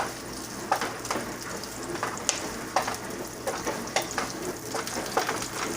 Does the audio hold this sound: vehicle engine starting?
no